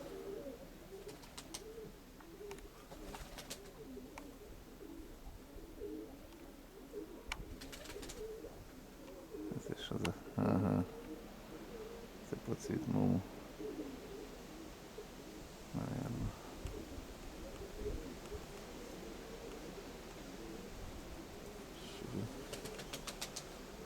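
Pigeons cooing in a loft, soft repeated low throaty coos with occasional bursts of wing flapping, steady murmur of birds at close to moderate distance over a faint background hum.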